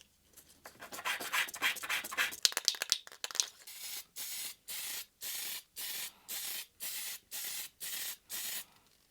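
Black spray paint applied to old speaker clamps from a 1974 Sonab OD-11 cube speaker restoration: after some rubbing and clattering handling noises, about eight even, hissing bursts of roughly half a second each follow in a steady rhythm, close and fairly loud.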